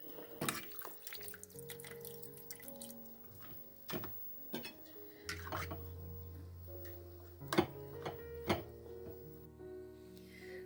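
Marinated bell pepper pieces, cooked in marinade, spooned into glass half-litre jars in a home kitchen, with repeated wet clinks and knocks of glass and utensils over running water and sink clatter, close and moderately loud.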